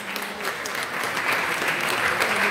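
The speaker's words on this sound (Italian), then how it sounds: "ovvero Fruscio di Nella Civiglia, e un applauso anche a lei, grazie." Steady applause from a festival crowd, dense and continuous clapping throughout with no break, fairly close and moderately loud.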